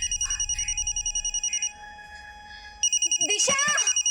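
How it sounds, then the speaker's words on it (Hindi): A phone rings in repeated electronic trills, pausing briefly before starting again, while a person speaks over the second burst. "हाँ, घंटी जा रही है। फोन की आवाज तो अंदर से आ रही है।"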